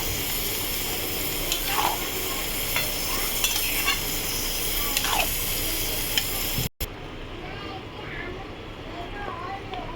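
Bottle gourd with salt is stirred in a pan for lau chingri, scraping strokes over a bright sizzling hiss, then a sudden cut to a quieter, gentler simmering sizzle.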